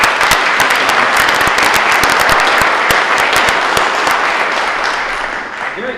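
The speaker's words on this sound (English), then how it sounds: "Let's have a round of applause." Loud, dense applause from a large crowd, sustained throughout and tapering slightly at the end.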